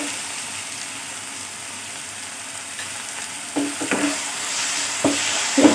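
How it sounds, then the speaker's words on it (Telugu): Spices frying in oil for a fish curry: a steady broadband sizzle runs throughout, with a few louder scraping stirs near the end. No one speaks. "చూడండి, ఇదంతా ఇలా బాగా వేగాలి ఆయిల్లో."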